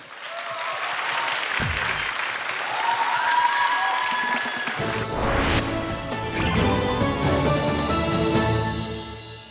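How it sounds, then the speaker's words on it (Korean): Studio audience at a Korean TV Hangul Day special applauds a student from a Sejong Institute in Changchun, China, a loud, continuous wash of clapping mixed with bright tonal stage music that swells fuller partway through. "여러분 큰 박수 보내주시죠"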